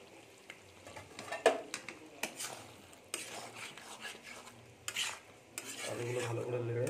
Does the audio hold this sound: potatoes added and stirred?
yes